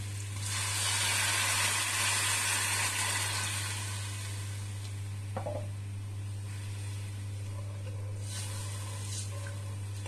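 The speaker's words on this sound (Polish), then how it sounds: "ten moment, kiedy do garnka dodaję sobie teraz bulion" Broth is poured into a hot pot for keto mushroom soup, giving a loud hissing sizzle that fades into a softer steady simmer, with a steady background hum and a few faint clinks.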